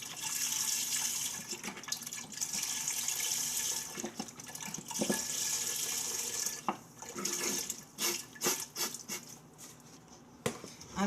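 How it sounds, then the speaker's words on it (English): Beef stock poured into a soup pot, a steady close liquid rush and splash running for several seconds, then breaking into brief splashes and drips as the pour ends. "And then we're going to add some beef stock."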